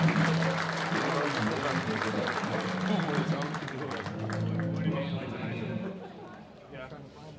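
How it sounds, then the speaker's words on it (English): At an 8-man all-star high school football game, a stadium crowd applauds and cheers for the coin toss, a broad, sustained wash of clapping that fades toward the end while a voice talks over it. "Let's give him a big round of applause as he performs the duties of tonight's coin toss"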